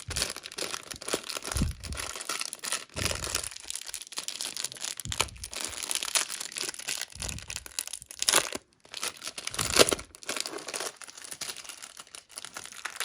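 Crinkly tearing and rustling of a paper packet being ripped open, repeated bursts of crumpling close by, no voices.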